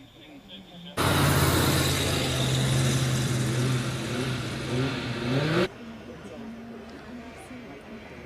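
A retro car at a classic car gathering accelerates past close by, its engine loud and rising in a steady roar for about five seconds before cutting off, with a commentator talking over the quieter stretches.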